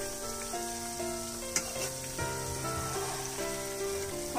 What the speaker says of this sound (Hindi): अब देख सकते हो चिकन मेरे फ्राई हो गए हैं।